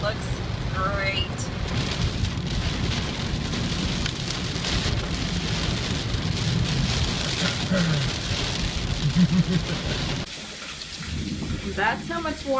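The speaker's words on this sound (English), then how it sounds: "That's how much water is coming off of our roof right now." Heavy rain drums steadily while water pours off a house roof, a dense, loud wash of splashing throughout; a voice speaks under the downpour near the end.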